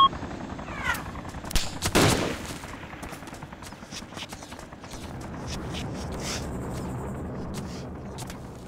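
Gunfire in the video game ARMA 2 during online multiplayer combat, a dense stream of shots and bursts, some close and sharp, others distant, continuing throughout with a steady background rumble.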